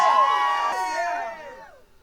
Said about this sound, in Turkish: mesela bravo sesi duyurabilirsiniz